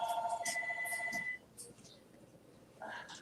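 A telephone rings in short electronic trills at a modest level, broken up by faint voices and low background noise, with another ring coming in at the end.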